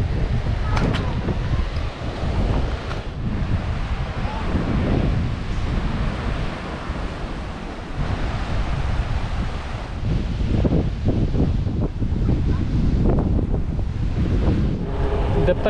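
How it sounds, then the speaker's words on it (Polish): Wind buffets the microphone steadily on a seaside pier at Gdańsk-Brzeźno, with the broad wash of sea waves underneath, continuous and fairly loud throughout. "Wiaterek jest, jest fala, jest dobrze."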